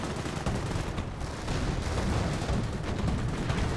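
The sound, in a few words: gunfire in the video game Company of Heroes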